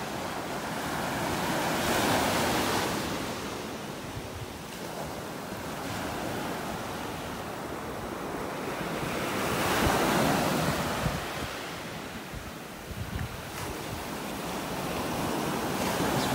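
Ocean waves roll and break on a beach in North Naples, Florida, swelling and receding in slow surges of surf under steady wind buffeting the microphone, with no voices.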